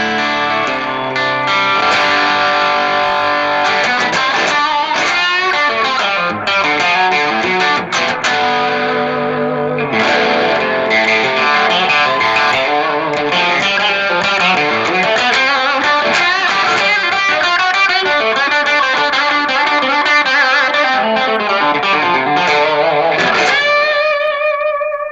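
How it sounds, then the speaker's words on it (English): Electric guitar with P90 pickups played through an amp with a little delay and reverb, a sustained, distorted melodic line ringing out with echoing tails, loud and alone. "That's guitar and amp. That's all it is. A little bit of delay and some reverb."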